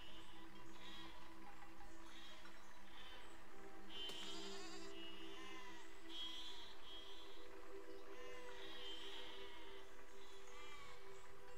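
Sheep in the siege-building video game Besieged bleat repeatedly in a series of wavering calls over a low steady background hum, at moderate distance and fairly faint, with no talking.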